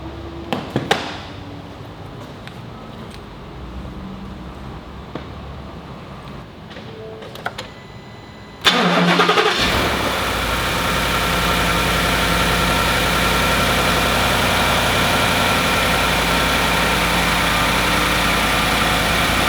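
A few faint clicks and rattles, then the 5.0 engine of a 2019 Ford F-150 cranks and catches with a jolt, settling into a steady, loud idle.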